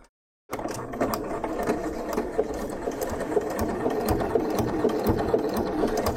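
After a moment of silence, a sewing machine runs continuously and steadily at close range, stitching a zigzag test on coat fabric for a Burda 7142 coat.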